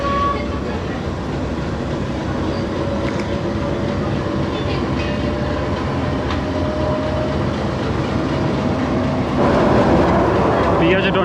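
The Pakistan Business Express passenger train runs on rails with a continuous heavy rumble and faint clickety-clack, steady and close, swelling louder near the end.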